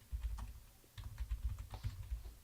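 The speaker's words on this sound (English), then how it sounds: "So I'd rather just type it out myself." Rapid clicks of typing on a computer keyboard, close and quiet, in quick irregular bursts with a short pause near the start.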